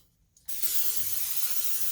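A short silence, then a steady hissing spray from a vegetable oil aerosol can onto a 9x13 Pyrex dish, close and continuous until the end.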